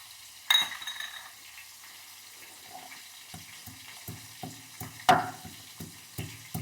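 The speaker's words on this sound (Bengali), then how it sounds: "আদা আদাগুলো আমি একটু থেতো করে নিচ্ছি" Ginger pieces being crushed for a catfish curry, a string of dull thuds and knocks, some single and some in quick pairs, with two sharper, louder impacts early and late, heard up close in a quiet room.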